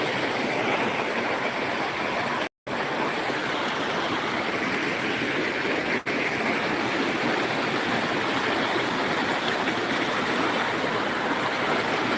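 A rushing stream pours past up close, a loud, steady broadband roar of churning water that runs continuously apart from one brief dropout.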